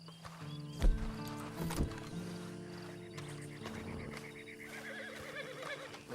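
A horse in the video game Red Dead Redemption 2 gives a short snort and whinny with a few hoof clops near the start, then quieter ambient game sound with soft musical tones continues behind it.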